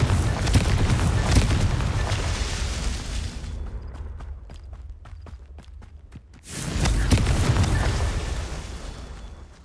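Fiery spell blasts from Confringo in Hogwarts Legacy, loud roaring bursts of fire and impact filling the first few seconds, a quieter pause with scattered footsteps-like taps, then another surge of rumbling explosions.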